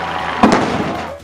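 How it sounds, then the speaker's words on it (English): A starting cannon fires once at an Ironman triathlon swim start on the Pacific Ocean shore, a single loud outdoor boom followed by a fading rumble, with no talking. "The cannon went off and all the swimmers went out into the clear blue water"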